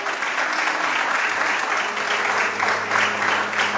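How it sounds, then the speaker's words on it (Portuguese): A church congregation applauds loudly during a Portuguese-language sermon, a steady, full wash of clapping that holds evenly throughout without pause. "aplauda forte o nome do Senhor"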